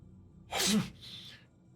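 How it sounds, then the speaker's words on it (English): A single sharp sneeze bursts out close by, followed by a short breathy exhale. "How are you sneezing?"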